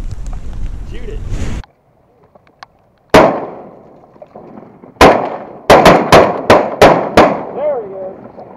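Shotgun blasts while hunting bluebill ducks outdoors in wind: one loud report, then a rapid volley of about six sharp shots close together, with voices talking before and between.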